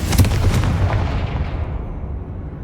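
A Confringo spell explosion in Hogwarts Legacy lands as one loud, booming blast that rolls on and fades away over a couple of seconds.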